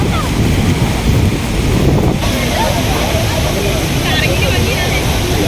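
Athirappilly waterfall crashes down in a loud, unbroken broadband roar mixed with gusting wind buffeting the microphone, and voices are faintly heard beneath the rush.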